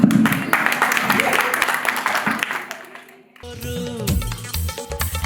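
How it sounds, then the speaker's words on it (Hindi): Audience applause at a sangeet celebration, a crowd clapping for about three seconds before it fades, then loud music with singing takes over. "अब इन लोगों के लिए तो बिल्कुल जोरदार तालियां बजाएं आप लोग।"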